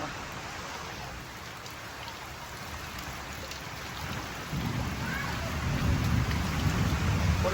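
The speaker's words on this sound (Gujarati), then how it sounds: "24 કલાકથી કન્ટિન્યુ વરસાદ ચાલુ છે, સતત વરસાદ પડે છે" Steady rain falls on a village, with floodwater in the village, after a full day of nonstop downpour with lightning, a dense continuous hiss that swells heavier and deeper toward the end.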